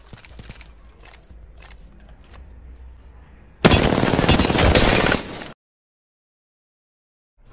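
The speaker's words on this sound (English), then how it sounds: "Now try to shoot the dummy." Rapid automatic gunfire in Apex Legends hits a training dummy in the firing range, a loud sustained burst of about two seconds that cuts off abruptly into silence, preceded by quieter in-game footsteps and handling sounds.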